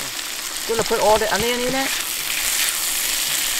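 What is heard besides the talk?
onions frying in a pan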